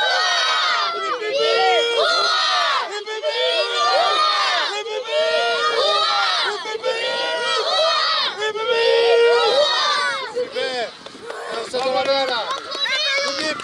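Young U9 players at a youth football tournament in Givry shout together, loud and close, in a long burst of overlapping high-pitched yells and cheers with brief dips in between.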